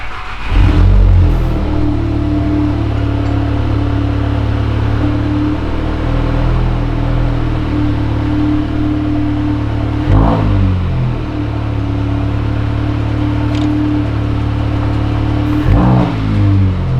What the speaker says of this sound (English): Start her up and make sure she's all good.